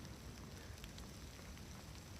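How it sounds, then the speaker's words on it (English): Rain begins falling on the Appalachian Trail, a soft, steady patter and hiss of drops spread evenly across the woods, faint and continuous with no voices. "it's starting to rain, but it isn't snow"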